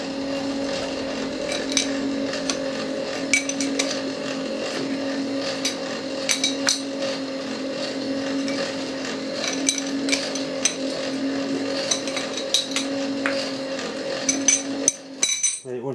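Nuts tightened on a milling machine keyway setup: scattered metallic clinks and taps of a wrench over a steady electrical machine hum, with a few louder knocks near the end.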